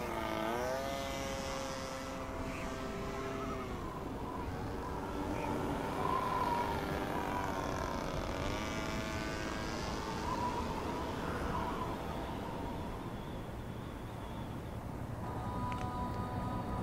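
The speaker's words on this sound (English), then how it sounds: "And fly the RC plane again." A small RC plane flies in The Secret World video game, its propeller whine rising and falling steadily in pitch across the whole stretch under a low ambient rumble.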